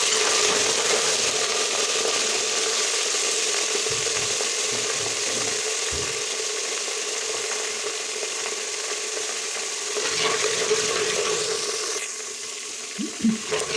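Dry spices and garam masala frying in a pan with garlic and ginger for goat trotter paya, a constant close hissing sizzle with a few soft knocks of stirring toward the end.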